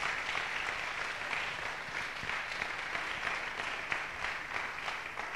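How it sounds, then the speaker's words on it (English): A church congregation at Rehoboth Assembly claps together in a steady, fairly even patter, moderately loud and continuous, with no speech over it. "Give the Lord a clap, offering."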